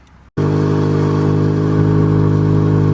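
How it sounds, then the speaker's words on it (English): Car engine with an exhaust leak firing up abruptly after a brief quiet moment, then running loud and raspy at elevated revs, close by and without speech. "Because there's an exhaust leak."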